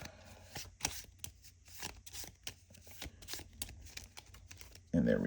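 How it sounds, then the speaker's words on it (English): Cards being shuffled during a solo Marvel Champions card game session, a run of quick riffling and shuffling bursts under a voice in the room, ending with a louder rustle. "Shuffle this card into the show deck."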